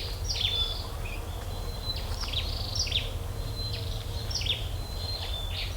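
Birds call and chirp repeatedly along a forest walk on a Singapore island, short bright notes scattered over a steady bed of insect buzz, moderately distant, with no talking.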